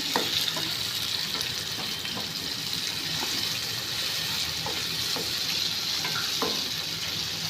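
Onions and tomatoes fry in oil for an Andhra-style fish curry gravy (chepala pulusu), with a constant close sizzle and repeated sharp clicks of a spoon stirring the pan. No voices.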